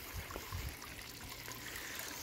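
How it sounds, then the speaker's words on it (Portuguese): Water falls and trickles into a home aquarium sump holding small lambari fish, a close, continuous splashing and gurgling with a few low bubbly thumps. "A água cai aqui onde é que fica os lambarias"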